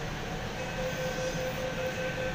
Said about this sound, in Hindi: ये हमारे ट्रेन अभी हम जा रहे हैं।